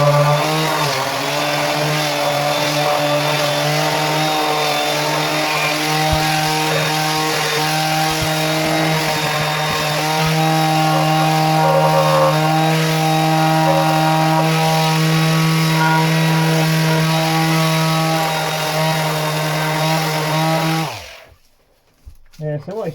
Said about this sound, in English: I'll take that down with a sander.